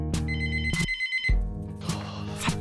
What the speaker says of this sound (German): Verdammtes Telefon.